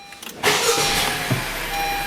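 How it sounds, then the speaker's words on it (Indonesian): A 2021 Honda CR-V Prestige with a 1500 cc turbo engine starts up with a short crank, then settles into a smooth, steady idle, heard close and without talk. "sekarang kita nyalakan mesin ya. Kita dengar bunyinya."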